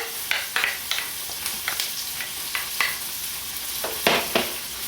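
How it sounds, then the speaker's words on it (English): Onions and garlic sizzle steadily in a hot pot while a utensil stirs and scrapes at intervals, close and clear with no talking. "The onions are frying."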